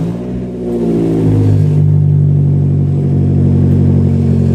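A car engine with its catalytic converter removed fires up and settles into a loud, deep, rough rumble, low and throaty, running steadily close by with no talking.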